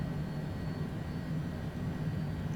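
The right engine of a Cessna aircraft runs during pushback at Vancouver airport in heavy rain, a steady, close turbine drone with a constant hum.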